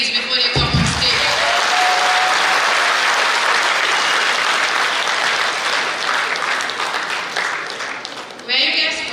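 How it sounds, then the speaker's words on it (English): Sustained loud applause from a pageant audience, a dense, steady wash of clapping that carries from start to finish and swells slightly at the very end. "Please clap for the ladies before they come on stage."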